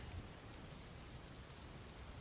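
Steady, hissing rain pouring down, a soft and even wash of drops with no break or distinct patter, fairly faint and continuous.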